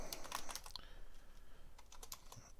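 Fingers type on a computer keyboard in quick, faint bursts of key clicks, with a short pause in the middle and no talking.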